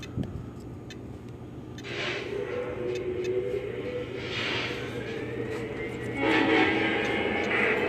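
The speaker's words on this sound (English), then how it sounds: "Train is rolling out." A model train rumbles steadily as it rolls out, with a faint horn or whistle tone drawn out in the background; no speech.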